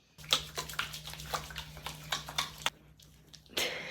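Cold, chlorinated shower water splashes and patters unevenly against a body and surface, close and moderately quiet, with a low hum underneath before a brief pause and a final gush.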